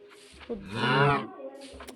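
A cow in the video game Minecraft lets out a single clear, close moo lasting about a second, with faint game background sounds around it and no talk.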